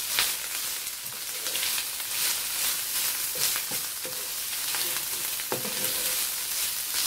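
Cashews mixed into a sizzling chicken and carrot filling for cheese rolls, a continuous close frying hiss with soft intermittent stirring scrapes and a few light knocks, no voices.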